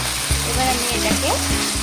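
Ginger, cumin and green chilli paste with tomato sautéing in a pan for a rohu fish curry, giving a loud continuous sizzle with a few spatula knocks, no voices.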